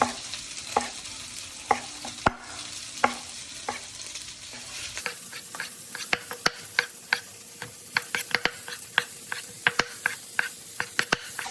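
Italian peppers fry in a pan with a soft, steady sizzle, broken by a long series of sharp clacks and taps as they are tossed and stirred, fairly faint, with no talk.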